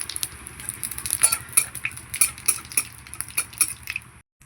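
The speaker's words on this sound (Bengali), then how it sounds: "তেল দিয়ে দিলাম গোটা জিরে দেবো ফোড়নে একটা শুকনো লঙ্কা" Whole cumin seeds and a dried chilli tempering in hot oil in a kadai, a close busy crackle and patter of spitting oil with bright pops that stops abruptly near the end.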